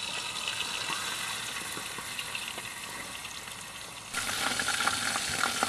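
Whole chicken roasting at camp in a billy can bush pot over a firebox, giving a steady close crackling sizzle that swells louder toward the end, with no talking.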